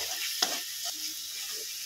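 Spice masala, with Kashmiri chilli powder, frying and being stirred in a pan for pointed gourd korma, giving a soft steady sizzle with a few scraping stir strokes and no talking.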